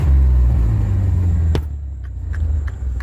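Chevy S10 engine idling with its exhaust cut off, a loud, deep, raw rumble close by that drops in level halfway through after a sharp click, then keeps running with a few faint ticks.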